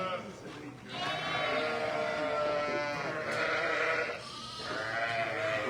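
Sheep and lambs bleat repeatedly and fairly loudly in a farm roundhouse while the ewes are fed concentrate, several overlapping calls over a continuous barn background, with a voice speaking among them.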